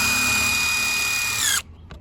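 A power drill whines steadily, driving a trim screw into wood for about a second and a half, then stops abruptly, leaving quiet room noise and a faint click.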